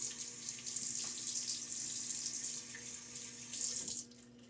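A bathroom tap runs steadily into a sink during a wet shave, a continuous close hiss of flowing water that cuts off sharply near the end.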